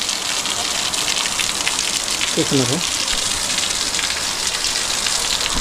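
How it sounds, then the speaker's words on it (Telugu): Rainwater spills and gushes like a small fountain at a pilgrimage site with many bathing pools, a steady close wash of water with a brief spoken word partway through. "ఇలా ఈ వాటర్ అయితే ఫ్లో అవుతాయి వర్షాలు పడుతున్నాయి కాబట్టి మనకి ఇక్కడైతే చిన్నగా వాటర్ ఫౌంటైన్ లెక్క అయితే ఏర్పడింది"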